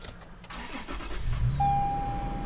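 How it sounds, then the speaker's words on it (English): A Toyota 4Runner's engine cranks briefly and catches after a push-button start, settling into a steady close idle, with a thin electronic tone from the dashboard coming in. "So I'm gonna go ahead here and press the ignition."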